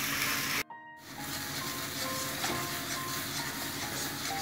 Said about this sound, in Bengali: এবার এটা নাড়তে থাকবো